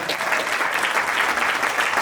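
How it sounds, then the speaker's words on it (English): Steady, full applause from an audience at the inauguration of the Brockton public safety building, close and sustained without a break for the whole stretch. "Let's give her a round of applause."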